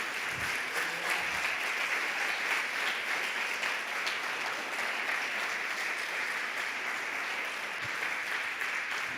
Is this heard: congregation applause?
yes